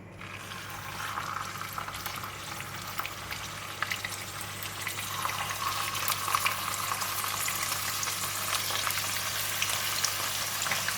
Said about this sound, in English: In the pan of hot oil, I'm going to put in the tofu.